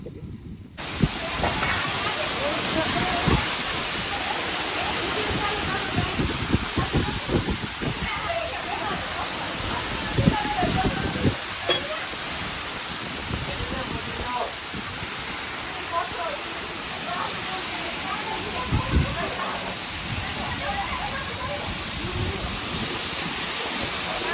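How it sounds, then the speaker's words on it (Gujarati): Heavy rain pours down on a farm during a storm, a dense continuous hiss with scattered louder gusts and splashes lasting throughout. "આ વરસાદે બહુ નુકસાની પહોંચાડવાની છે"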